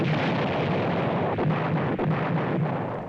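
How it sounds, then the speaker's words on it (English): Wartime bombing in China in 1939, with dense, continuous rumbling explosions and heavy booms rolling together at a distance, loud and unbroken with no talk. "Day and night, the bombs continue, yet Chiang persists."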